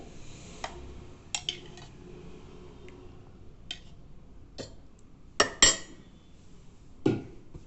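A metal spoon taps and clinks against a dish while curd is scooped for curd rice, giving several sharp clicks scattered across a quiet background and a louder clatter near the end.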